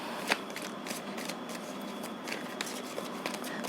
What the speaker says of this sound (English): Let me just pull another card on this one.